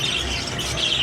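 A clear-bodied, clear-winged budgerigar (parakeet) gives a short, loud, shrill squawk close to the microphone, lasting about a second with no talking.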